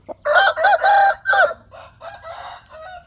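A rooster crows loudly and close by, one full drawn-out call followed by a fainter, broken second crow.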